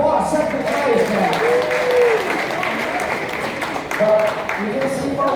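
A crowd applauds at an outdoor paper-airplane flying contest on a cruise stop in Bar Harbor or Halifax, loud sustained clapping with voices and cheers mixed through it.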